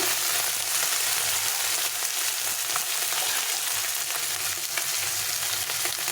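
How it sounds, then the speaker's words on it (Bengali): Small fish frying in a little oil in a home kitchen, a steady close crackling sizzle with faint low hum beneath, continuous throughout with no talking. "মাছটা ভাজা হচ্ছে"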